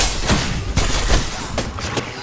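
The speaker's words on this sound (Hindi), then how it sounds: "हेडशॉट मारा इसने मुझे लॉन्गबो से" Gunfire in the Apex Legends video game, including a Longbow sniper rifle headshot: a dense, loud burst of repeated shots and thuds of an ongoing firefight, close up, with several sharp cracks spread through the clip.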